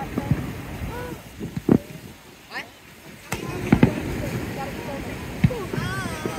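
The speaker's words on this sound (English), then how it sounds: "We're going to watch the fireworks, kids." Fireworks bursting over a beach at an Independence Day show: scattered sharp pops and booms near and far, mixed with crowd chatter and wind rumble.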